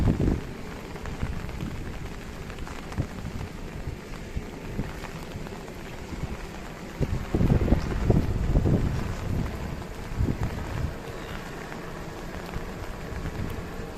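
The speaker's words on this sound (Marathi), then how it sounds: "पाऊस जोरात पडतो आहे" Heavy monsoon downpour in Konkan pours steadily as a dense, loud wash of rain and wind, swelling briefly stronger partway through, with no voices.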